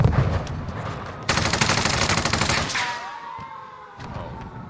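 Heavy automatic gunfire in Warzone erupts in rapid, dense volleys, loud and close, then gives way to ringing echoes and scattered shots.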